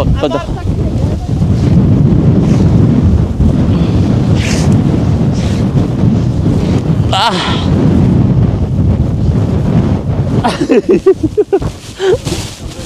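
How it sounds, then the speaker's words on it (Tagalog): Strong mountain wind gusts batter the microphone in a loud, rumbling roar near a rope on a Tatra Mountains climb, with brief voices and rustling breaking through near the end. "Malakas ang hangin kasi."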